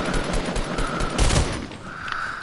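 A burst assault rifle in the Fortnite battle royale game fires rapid, loud, close shots, with a heavier burst near the middle of the short stretch and no talking over it.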